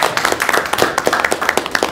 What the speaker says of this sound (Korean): 서로에게 위로와 배려와 감사의 마음을 담아서 큰 박수 한번 하시고 시작하겠습니다